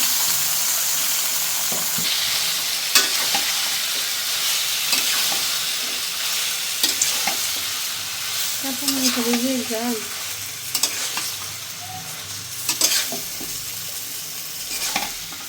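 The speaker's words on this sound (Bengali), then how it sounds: "এবার মুরগি রান্না করার জন্য তেল দেওয়া হয়েছে" Chicken frying in oil in a pan, a steady close sizzle with scraping stir strokes and clinks throughout, and no talk.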